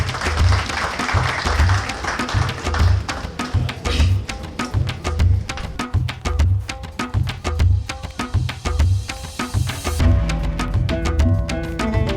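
An audience at an honouring ceremony keeps up continuous applause, with clapping mixed over a regular pulsing beat that grows sharper and more distinct near the end.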